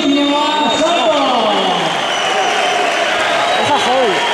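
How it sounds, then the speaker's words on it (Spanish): A crowd at a boxing match between Javier Garcia Roche and Miguel Aguilar applauds before the sixth and final round, a steady wash of clapping under loud voices calling out nearby. "Vamos a dar un fuerte aplauso para este sexto y último asalto"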